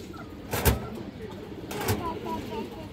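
Fancy pigeons at a seller's loft, a red-necked female among them, give low coos between two sharp bursts of flapping or handling noise nearby.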